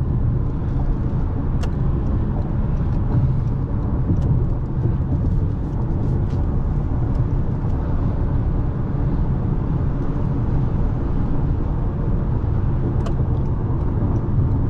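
2023 Toyota Crown Platinum hybrid driving in Sport S Plus mode, with a steady, loud low engine and road drone from inside the cabin that holds constant throughout, plus a few faint clicks.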